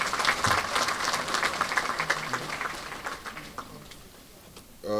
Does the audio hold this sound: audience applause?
yes